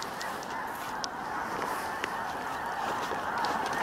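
A large flock of snow geese honks continuously during an evening spring hunt, dense overlapping calls from many birds at a distance, steady throughout with a few sharper honks standing out.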